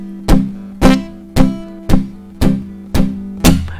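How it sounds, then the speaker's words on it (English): Palm-muted guitar playing a shuffle-style strumming pattern of plain downstrokes, seven even, thudding chord hits repeating at a steady pulse, close and clear with no talking. "another pattern will be a variation of a shuffle pattern with literally four downstrokes"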